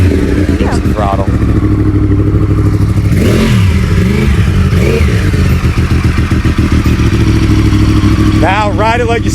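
A Yamaha R1 sport bike engine runs loud and close, a steady throaty idle with rising and falling throttle blips, while people talk over it throughout.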